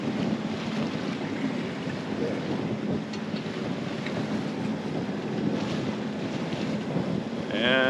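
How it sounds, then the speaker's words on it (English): Sailboat motoring straight into the wind at sea off Long Island in the Bahamas, with steady rushing wind buffeting the microphone, water noise and a low engine drone throughout. "we got about 30 minutes of motoring straight in the wind"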